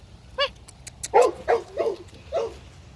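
A red bully puppy lets out a short series of yips and barks, five quick bursts spaced about a third of a second apart, close to the microphone with no talking.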